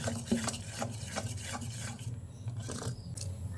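Semolina batter being stirred with sugar and a little water for a steamed palm pitha, giving a steady close scraping and rubbing sound against the bowl, repeated in even strokes with no talking.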